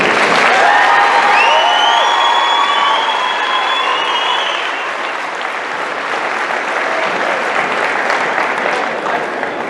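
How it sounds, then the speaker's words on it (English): Applause from a graduation crowd at an eighth grade ceremony, loud and sustained with dense clapping throughout, some faint whistle-like cheers early, tapering slightly but continuing to the end. "Round of applause for that row."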